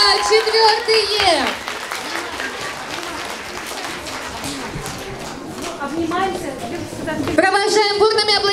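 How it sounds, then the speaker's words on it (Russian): Applause for a graduating fourth-grade primary school class at an end-of-year ceremony, a steady crowd clapping throughout with an announcer's voice and cheering rising over it near the start and end. "Провожаем бурными аплодисментами 4-й Е класс!"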